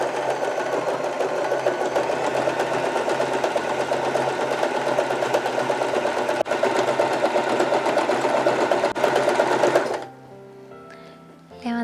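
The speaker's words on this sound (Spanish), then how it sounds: "Colocamos la tela, bajamos el prensatela y comenzamos a coser." A Janome 311 sewing machine sews a straight stitch through stretch fabric with a ballpoint needle, a steady close mechanical whirr running for about ten seconds and then stopping abruptly, leaving faint quiet rustling.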